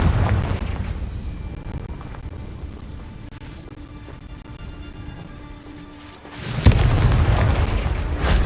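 Confringo blasting spell bursting in Hogwarts Legacy: a loud booming explosion opens the passage, a quieter rumbling stretch follows, then a second sharp, powerful blast hits near the end.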